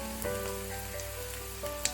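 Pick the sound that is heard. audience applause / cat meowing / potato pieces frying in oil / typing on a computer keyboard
potato pieces frying in oil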